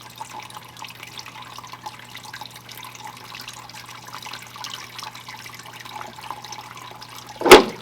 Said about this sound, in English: we're going to go ahead and get some water going.